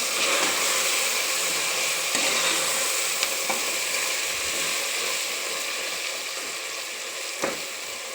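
Turmeric, coriander powder and red chilli powder stirred in a pan with tomato, hissing in a loud, continuous close sizzle, with a few soft utensil scrapes rising briefly above the steady frying.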